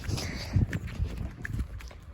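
Rhythmic hoofbeats of a horse trotting on soft ground, close by, over a faint breathy background.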